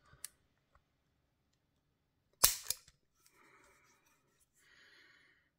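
Sharp mechanical clicks from a trigger pull gauge on an FEG SMC-918 pistol, one crisp snap of the action, then faint scraping, close and quiet, with no talking.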